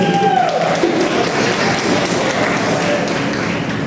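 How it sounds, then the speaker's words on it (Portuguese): A church congregation claps together in a steady, dense wash of applause at close range, with a voice briefly audible at the start beneath the clapping. "Salve de palmas."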